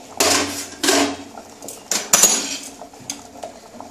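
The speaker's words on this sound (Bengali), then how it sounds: "এবারে আমি ওই সবজিগুলো দেব" Chopped vegetables dropped into a pot of boiling water on the stove, giving several clattering, clinking knocks against the metal pot in bursts, close and fairly loud with no talk.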